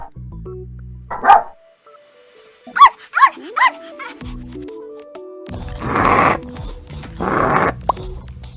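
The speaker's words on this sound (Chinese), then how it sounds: "在 Google 上随便搜寻一种狗狗，按下这个喇叭，它会狗叫给你听。" A dog-bark recording plays from a phone's Google search speaker button: a few sharp, separate barks, then a longer, rougher growling bark stretch.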